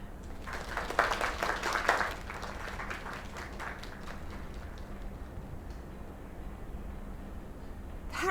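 Applause in a video game, a brief burst of clapping at a bar celebration that swells for a couple of seconds and then fades into low background ambience.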